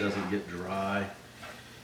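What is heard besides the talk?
eggs being stirred and sizzling in a frying pan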